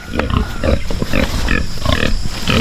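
Pigs grunting and squealing in a steady, busy jumble at close range, with overlapping calls and no talk.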